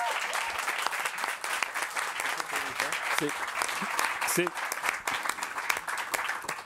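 Applause from an audience at a Campus Party presentation, a thick continuous patter of clapping that holds at a steady level throughout, with a few scattered voices underneath.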